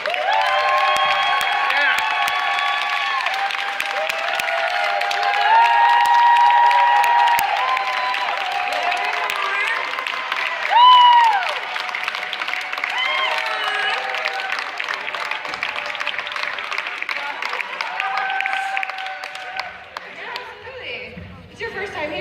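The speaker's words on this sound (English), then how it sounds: "let's give them a huge round of applause" A convention crowd at a Rock and Shock 2018 Twin Peaks panel claps and cheers with whoops and shouts, a swell of noise that builds, peaks midway, then thins into chatter near the end.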